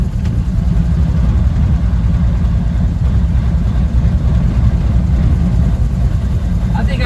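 A 1937 Plymouth Coupe's engine runs steadily in second gear while driving, a loud, continuous low rumble heard from inside the car.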